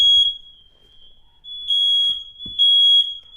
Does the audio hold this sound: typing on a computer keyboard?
no